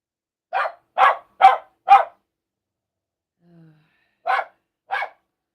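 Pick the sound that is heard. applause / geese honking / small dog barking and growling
small dog barking and growling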